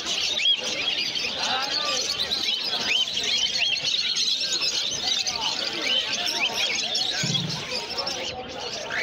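Java sparrows chirp and tweet constantly at a busy exotic bird market, many high calls overlapping into a dense, loud chorus with voices faintly mixed in.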